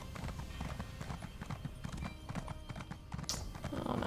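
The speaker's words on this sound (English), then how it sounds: "Have the horse walk the stairs." Horse hooves clop steadily up a flight of stairs in Elder Scrolls Online, a regular run of close, crisp game steps with a faint whinny near the end.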